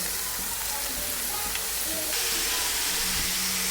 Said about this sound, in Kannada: ಈಗ ಇದು ಸ್ವಲ್ಪ ಫ್ರೈ ಆದಮೇಲೆ ಬೀಟ್ರೂಟ್ ಹಾಕೋತಾ ಇದ್ದೀನಿ